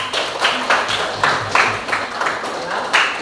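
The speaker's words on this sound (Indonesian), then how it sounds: "Tepuk tangan." Rhythmic hand clapping in a classroom setting, a steady run of about eight sharp, evenly spaced claps at moderate loudness, with no voices over it.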